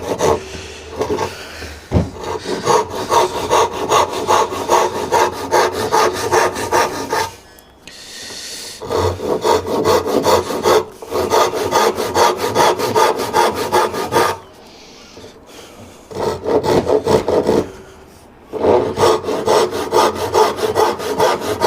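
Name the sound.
hand saw cutting dovetails in wood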